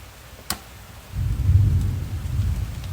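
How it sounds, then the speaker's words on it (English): Steady rain patters outdoors with a low rumble of distant thunder swelling midway, after a single sharp knock. "There's the rain"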